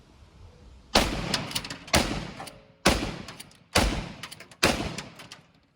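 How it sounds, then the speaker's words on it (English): Five loud, sharp gunshots from a rifle fired with a short stock, spaced about a second apart in a steady rhythm, each blast ringing out and decaying before the next, with no talk between them. "I'm going to shoot this one with a short stock because some guys like to."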